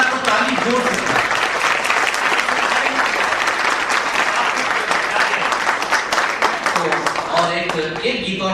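An audience at a Hindi poetry recital breaks into sustained, loud applause, a dense wash of clapping that holds steady for several seconds before a voice begins to emerge at the end.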